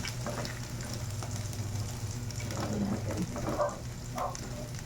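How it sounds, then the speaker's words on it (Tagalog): Garlic sautéing in a pan on the stove while cooking filling for Filipino shanghai, a steady soft frying sizzle that runs throughout with light stirring scrapes, close and moderately quiet. "So, nung maigisa na siya ng maigi, ayan."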